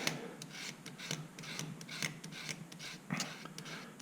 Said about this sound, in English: if you're careful and you scrape and you don't cut, in my experience it works okay.